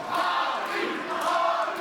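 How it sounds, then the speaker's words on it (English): A large crowd at a New Order Wrestling event, heard as a steady, dense roar of cheering that holds without a break and with no voices standing out. "Listen to the crowd. Look at this crowd."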